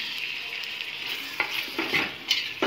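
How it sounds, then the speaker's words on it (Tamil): Tomatoes hit a hot frying pan with yogurt-marinated chicken for biryani, a bright steady sizzle with several scraping stirs of a spoon close by. "நம்ம தக்காளி ஆட் பண்ணிடலாம்."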